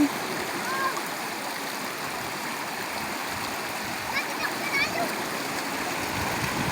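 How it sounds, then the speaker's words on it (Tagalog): Stream water rushes in a steady, close, continuous wash at Alibagon, Cajidiocan, Romblon, where fresh water meets salt water, with faint voices in the background. "Parinig natin ang tubig."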